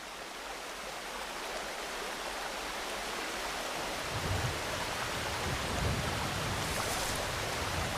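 Rain falling steadily over a dense mangrove forest, a broad continuous hiss that thickens midway with heavier patter and low drumming on foliage, no voices present.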